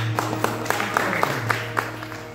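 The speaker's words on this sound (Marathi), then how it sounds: "टाळी वाजवले" An audience at a large Sant Tukaram saptah religious gathering claps in a steady rhythmic beat, a soft crowd murmur underneath.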